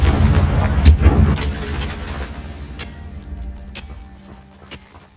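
A Confringo fire spell going off in Hogwarts Legacy, with a heavy, booming explosion at the start that fades into scattered crackles and small pops.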